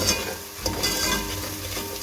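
Green chillies sizzling in hot oil in a pan while a spoon stirs and scrapes them, a steady close frying hiss with soft utensil knocks.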